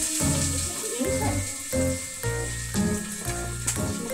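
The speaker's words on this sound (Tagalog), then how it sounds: "Ngayon naman po ay magigisa na po tayo ng bawang at sibuyas" Garlic and onion sauté in a pan, giving a close, steady sizzle broken by a few knocks and scrapes of stirring. A voice talks quietly over the cooking at times.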